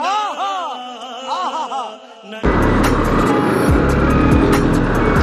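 A Royal Enfield motorcycle races past on a road, its loud engine roar swelling suddenly and staying close, cutting across a wavering high whine that precedes it.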